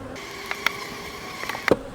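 Honey bees hum in an Apimaye nuc hive during a split, a steady insect drone running throughout with a few brief knocks and clicks from handling frames.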